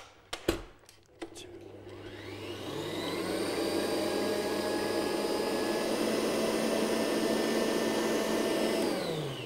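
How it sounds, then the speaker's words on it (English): After a few sharp clicks and knocks, an electric mixer whirs into a loud, steady motorized drone as it beats egg whites for a lemon soufflé, holding at a constant level to the end. "when we're beating the egg whites is we don't overbeat them"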